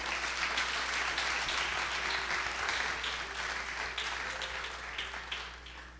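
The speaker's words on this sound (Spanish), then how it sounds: "Vamos, aplauda con gozo." Church congregation applauding, a dense wash of many hands clapping at once, steady and fairly distant, gradually thinning toward the end with no voices over it.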